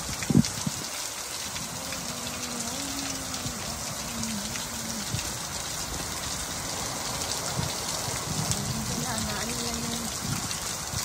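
Steady, heavy rain pours with a constant hiss and patter, while a voice talks faintly underneath.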